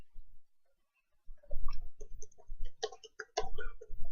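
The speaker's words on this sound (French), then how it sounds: "je fais un retour la ligne avec la touche entrée du clavier" A computer keyboard's Enter key and other keys click: a few soft taps, a short pause, then a run of crisp, close clicks in an uneven rhythm.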